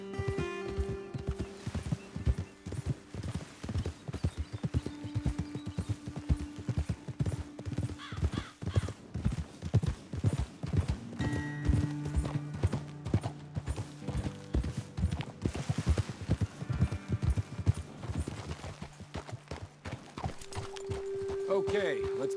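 Steady clip-clop of horse hooves walking on hard ground in Red Dead Redemption 2, continuous and rhythmic, with occasional creaks and voices talking over it.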